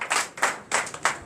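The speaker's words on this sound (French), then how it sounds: "Donnez l'acclamation." A church congregation at a Sunday worship service in Benin claps in acclamation, four sharp, loud, evenly spaced group claps in quick rhythm, with no speech.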